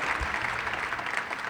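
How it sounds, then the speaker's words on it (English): Steady, fairly loud applause from an audience at a summer kickoff community event, many hands clapping continuously in a dense wash without pause. "Let's give her another round of applause."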